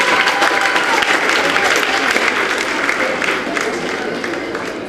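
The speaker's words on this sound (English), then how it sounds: "Give a big round of applause to him." Sustained audience applause at a school award ceremony, dense clapping from a large crowd holding steady and loud throughout, tapering slightly toward the end.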